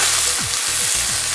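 Wasabi greens and turnip lightly stir-fried in a pan, giving a dense continuous sizzle with regular tossing or scraping strokes every few tenths of a second, close and loud, with no talking.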